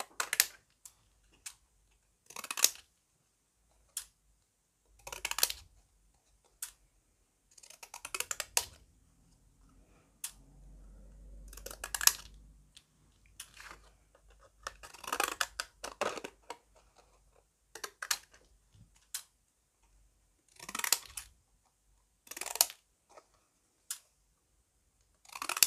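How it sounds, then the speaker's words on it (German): Pinking shears cutting through patterned design paper for a birthday card, giving a series of short crisp snipping bursts with pauses, close and fairly quiet, with no talking. "Jetzt entscheide ich mich für diese Zackenschere und schneide meine zum Geburtstag einmal aus."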